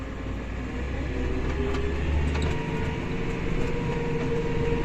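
A New Holland tractor ploughs through snow at minus eight with wheel slip and no differential lock, giving a loud, steady, labouring engine drone with a low rumble throughout.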